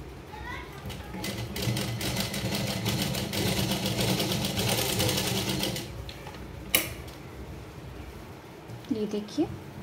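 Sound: sewing machine stitching fabric

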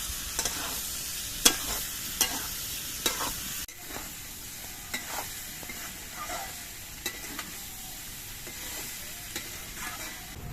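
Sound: stirring and frying soybean chunks with potatoes in a pan

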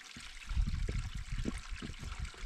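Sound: filling a bottle with water from a mountain source

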